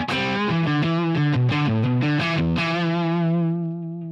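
Single-coil electric guitar through a Line 6 Helix with the volume cranked, a driven, harmonically rich melodic phrase of several distinct notes ending on a long sustained note that slowly fades, loud and close.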